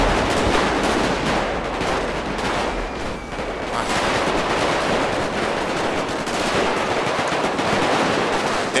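Rapid automatic gunfire in GTA 5 during a Purge-themed round, loud and continuous bursts with a brief dip in the middle, dense overlapping shots throughout.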